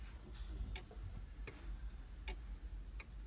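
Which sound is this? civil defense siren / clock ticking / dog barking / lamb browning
clock ticking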